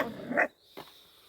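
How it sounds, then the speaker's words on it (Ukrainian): A puppy, one of several abandoned on the street, gives a short bark and then a softer yip, close by and with nobody talking. "Не гавкай на таблетки."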